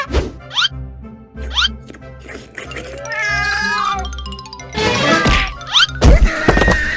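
A cat meows several times in short rising cries, then gives a longer drawn-out wail, close and fairly loud, with a few soft thumps and knocks mixed in.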